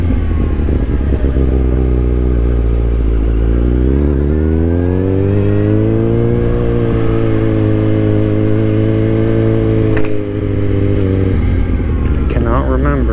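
A motorcycle ridden during Laconia Bike Week toward Weirs Beach: a loud, close engine drone that rises in pitch as it accelerates, holds a steady cruising tone, then drops and revs again near the end.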